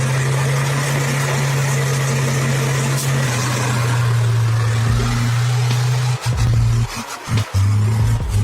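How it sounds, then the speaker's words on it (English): A giant heavy timber truck rolls slowly over a rocky gravel road, its engine a steady deep drone that shifts pitch partway through, with crunching and rumbling from the wheels and no voices. "a giant timber truck was slowly moving, like a patient steel monster"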